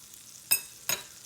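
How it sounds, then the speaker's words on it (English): Chopsticks clicking twice against a frying pan while oil heats for an omelette, two brief sharp scrapes over a faint background hiss. "That is the sound of the chopsticks."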